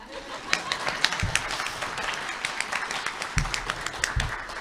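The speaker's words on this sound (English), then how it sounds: "Applaud, people." Audience clapping at a spring social work hooding graduation ceremony, scattered, fairly faint and distant applause with irregular claps and a few low thumps.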